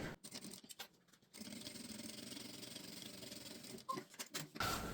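A sewing machine stitches a seam on a small shoulder bag. A few soft handling taps come first, then a steady close motor whir runs for about two and a half seconds before stopping for more light fabric handling.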